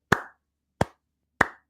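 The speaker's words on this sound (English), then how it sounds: "that's a slow clap" Three slow, evenly spaced hand claps at a conference summit, each crisp and fairly loud with a short decay, separated by silence.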